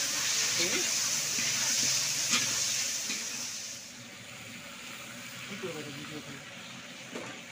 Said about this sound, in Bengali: একটু ফ্রাই করবো না এখন